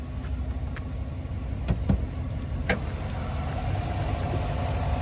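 A 2025 Chevrolet Tahoe High Country's 6.2-liter naturally aspirated V8 idles steadily with a low, even rumble, joined by a few brief clicks and taps.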